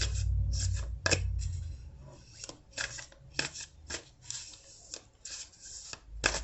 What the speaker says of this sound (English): I pre-shuffled these, but I'm going to shuffle them a little bit more